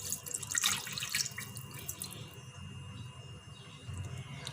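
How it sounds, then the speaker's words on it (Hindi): Water pours into a pan sitting over low to medium heat for a white chicken yakhni pulao, a soft steady trickle and splash heard faintly throughout. "इसमें शामिल कर देंगे पानी हस्बे ज़रूरत।"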